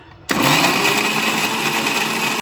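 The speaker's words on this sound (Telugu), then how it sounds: "మిక్సీ పట్టుకుందామా?" A mixer grinder switches on abruptly and runs with a loud, steady high-pitched whir for about two seconds before cutting off.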